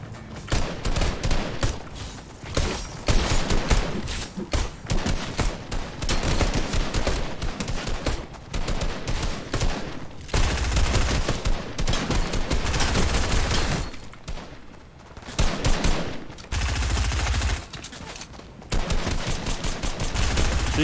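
Rapid gunfire from a video game, dense bursts of automatic shots and single cracks running almost nonstop and loud, with brief lulls between volleys.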